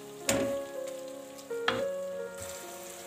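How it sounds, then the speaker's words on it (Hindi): Mashed potatoes being stirred into a sizzling gravy for Lahori chikar cholay, with two sharp scraping strokes of a spoon against the pan over a steady frying hiss, close up and without talk. "इसे भी अच्छी तरह इसके अंदर मिक्स कर देंगे।"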